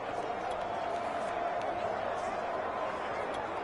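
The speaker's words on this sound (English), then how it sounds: "Listen to this crowd now." Large football stadium crowd roaring with a steady, dense wash of cheering before a tying two-point conversion attempt, loud and continuous throughout.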